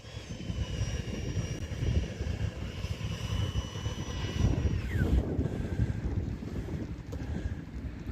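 An E-flite F-18 Blue Angels RC jet on its maiden flight gives a continuous whining electric ducted-fan roar. The pitch falls midway as it passes, with steady wind buffeting on the microphone and no speech.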